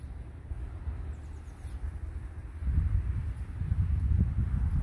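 Wind blows over the microphone outdoors on a sunless day by the water during a fishing trip, a low steady rumble that swells louder in the second half, with no talk.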